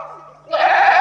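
A person's voice imitating a goat's bleat, a short wavering nasal cry that swells louder in the second half, alone and close.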